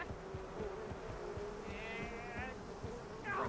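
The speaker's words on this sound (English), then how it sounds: "The bees that freeze you to death?" Freezing bees in a video game buzz in a low, pulsing drone with rapid rhythmic beats, joined by a brief higher warbling tone midway and a rising effect at the end.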